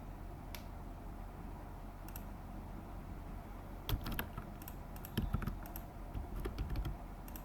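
Soft, irregular clicks of typing on a computer keyboard, faint and close, with a busier flurry of keystrokes in the second half over a steady room hiss.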